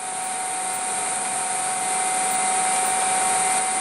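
A Mechtric 0.75 kW three-phase electric motor spins at 90 Hz, giving a steady high-pitched whine with a strong tonal hum that rises slightly in loudness, running alone and unbroken.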